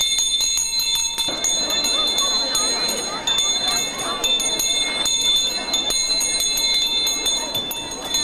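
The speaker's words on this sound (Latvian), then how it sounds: "Tas ir 1. zvans šajā mācību gadā uz 1. svētku stundu 1. septembrī." An electric school bell rings for the first lesson of the school year on the first of September. It is a loud, continuous metallic ring with overtones that holds for several seconds, and a small crowd murmurs around it.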